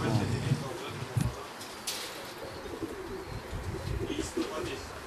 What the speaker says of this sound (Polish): Patrzmy właśnie, są dwa gołębie, już Rafał zobaczył.